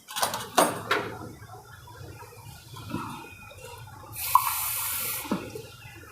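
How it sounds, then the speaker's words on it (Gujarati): Water is poured into a pan of curry with chickpeas, potato and curd, a steady splashing rush lasting about a second amid clinks of cooking utensils in a home kitchen. "હવે આપણે પાણી નાખશું।"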